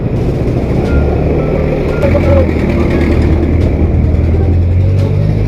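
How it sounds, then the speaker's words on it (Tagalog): A large 18-wheeler truck reverses in heavy traffic in Deparo, its backup alarm beeping steadily over loud engine rumble and road noise, close by. "Lalaki kasi ng mga truck dito mga kuya sa Deparo eh no."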